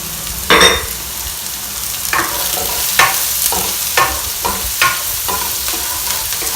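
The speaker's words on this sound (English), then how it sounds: "And now I'm going to stir it till the garlic gets slightly brown." Garlic and onions fry in a pan with a steady close sizzle, broken by a few sharp scraping strokes as they are stirred, with no voices.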